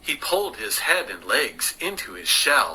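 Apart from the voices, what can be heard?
None of the usual background noises is heard.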